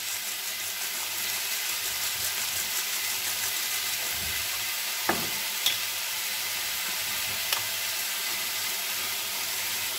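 Chicken pieces sizzle and brown in a hot pan with a steady, even crackling hiss throughout, broken by a few small sharp pops and a soft clink.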